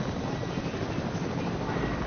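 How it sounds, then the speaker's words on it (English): Steady helicopter rotor drone in a video game with a broad, dense rumble, continuous and fairly loud throughout. "Oh, another helicopter. Shoot that helicopter."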